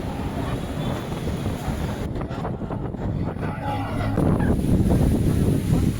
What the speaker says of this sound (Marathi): फुल वारा आहे